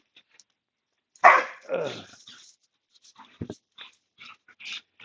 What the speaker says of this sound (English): I have some puppy dogs that are having quite the time.